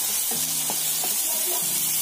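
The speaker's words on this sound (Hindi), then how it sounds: "अच्छे से भून लेंगे" Chicken masala with coriander powder and salt is fried in a pan, a steady hissing sizzle with a few low tonal scrapes and knocks from stirring, close and without talk.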